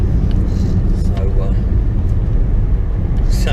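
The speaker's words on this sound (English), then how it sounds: "this morning is my view from the car, as I make my way over to Fraggle Rock, the Isle of Sheppey" Steady, loud engine and road rumble fills the interior of a car on the morning drive to the Isle of Sheppey, with faint higher noises passing over the continuous low drone.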